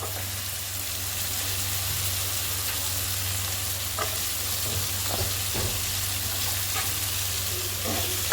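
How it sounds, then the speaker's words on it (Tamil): Potatoes and carrots sauté in a pan with onions for Maggi noodles, a continuous soft sizzle with a low steady hum from a nearby stove, and a few faint stirring scrapes, no voices. "அது நல்லா வதங்கட்டும்."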